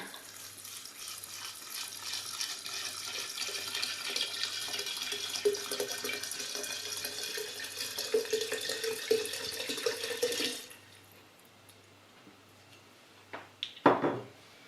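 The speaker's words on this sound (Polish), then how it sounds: "Więc teraz zalewamy to wszystko spirytusem." Spirit poured from a bottle over coffee beans, cinnamon, vanilla and cloves in a jar: a steady, close liquid gush for about ten seconds, then quiet and a couple of glassy knocks at the end, with no talking.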